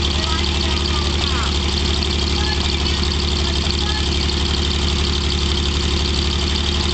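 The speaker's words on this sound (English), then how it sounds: "Tell her, Aaron, push the clutch in and pull that one lever, and then pull the one you let down, pull it back" A 1949 Chevy dump truck idles close by, a steady low rumbling engine drone with even, slightly knocking pulses that continues throughout, with a voice speaking faintly beneath it.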